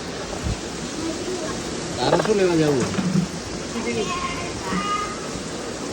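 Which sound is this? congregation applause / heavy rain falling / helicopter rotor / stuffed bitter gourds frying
heavy rain falling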